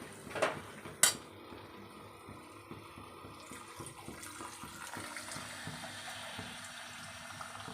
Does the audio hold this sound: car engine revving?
no